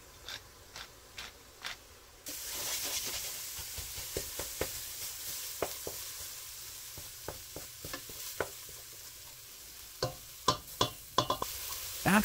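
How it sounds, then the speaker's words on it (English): Meat sauce sizzles in a hot pan while a utensil scrapes and stirs through it, a steady frying hiss underneath a series of short, sharp scraping strokes that grow quicker and louder toward the end. "Now give it a stir and season."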